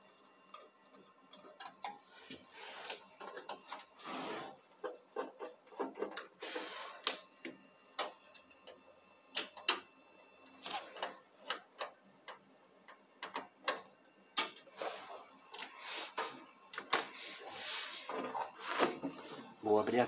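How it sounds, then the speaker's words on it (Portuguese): The cover of an old Pentium Celeron 266MHz PC being opened, quiet scattered clicks, taps and rubbing scrapes of the metal case and screws, close and faint, with someone talking intermittently. "Vou abrir a tampa agora, pessoal"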